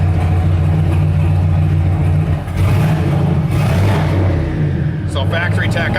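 A truck engine idles with a loud, steady low rumble, a brief dip midway, and someone talking over it.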